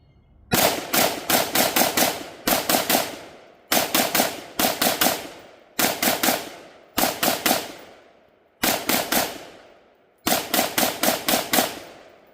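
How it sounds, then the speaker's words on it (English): An AR-style rifle fires rapid strings of loud, sharp shots outdoors, dumping a magazine in seven quick bursts of several rounds each, separated by short pauses. "let's see how fast we can mag dump in the trash real quick."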